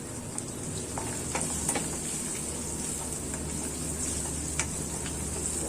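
Garlic cloves, curry leaves, asafoetida and turmeric sauté in a pan with a soft, steady sizzle, and a spoon stirs them with occasional light ticks and scrapes.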